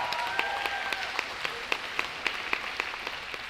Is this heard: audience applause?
yes